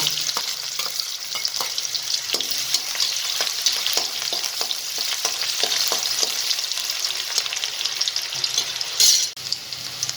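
Chopped onion sautés in hot oil with popped mustard seeds and cumin, a loud continuous sizzle broken by the clicks and scrapes of a spoon stirring, with a brief louder flare near the end.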